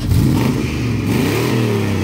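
A Dodge Ram's rare 5.2 Magnum diesel engine revs under hand throttle with the hood open, giving a loud, close, rising growl that climbs and holds steady.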